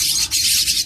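Javan myna chicks being hand-fed give shrill, high chirps in two or three quick close bursts, loud and alone.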